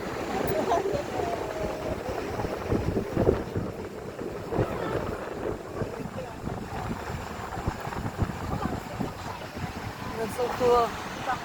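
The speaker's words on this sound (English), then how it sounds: "as you can tell, the wind started to pick up" Wind buffets steadily over the Niagara Whirlpool aero car, a continuous rough rumbling gust noise beneath people talking throughout.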